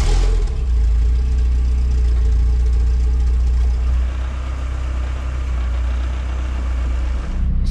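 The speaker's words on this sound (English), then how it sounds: "let's start it up." An old classic car's engine runs at a steady, loud idle throughout, a deep low rumble with slight variations, ending with a brief clunk near the end.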